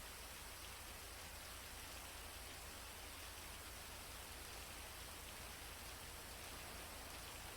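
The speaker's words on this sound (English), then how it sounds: "it's raining" Steady rain falls in GTA V, a constant hiss of even noise that stays loud throughout with no voices.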